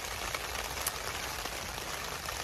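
Steady rain patters on a camp tarp at a wild bivvy site on a wet morning, a dense even hiss with scattered louder drops, no talking.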